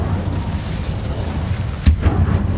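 Hogwarts Legacy spellcasting, with Confringo and Incendio blasts, has a continuous low rumble of magic broken by one sharp, loud explosive crack near the end, followed by a few softer echoing thuds.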